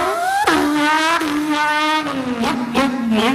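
A voice imitates a Formula One style racing car engine: a steady, close, buzzing drone that dips and climbs in pitch several times as if shifting gears and accelerating, with no other speech.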